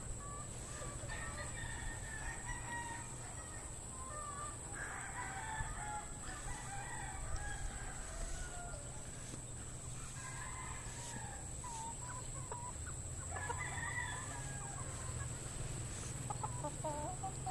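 Darag native chickens in a netted, roofed enclosure cluck and crow in repeated calls, fairly faint and distant over a steady background hum.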